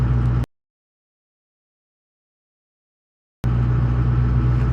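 Pickup truck fitted with a generic aftermarket cold air intake idles while warming up, a steady low engine rumble that cuts out completely for about three seconds in the middle before resuming at the same level.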